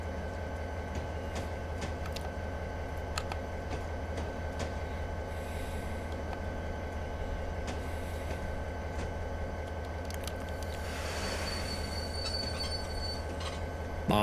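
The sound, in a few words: locomotives of a local freight train braking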